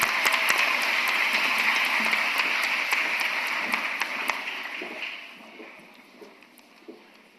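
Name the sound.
audience applause at a graduation ceremony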